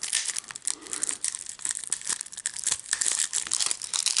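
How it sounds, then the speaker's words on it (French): Plastic wrap crinkling and tearing as the cards of a Magic: The Gathering March of the Machine commander deck are unwrapped, a steady close rustling and crackling that continues without pause and with no talk over it. "Je vais déjà ouvrir les cartes du deck"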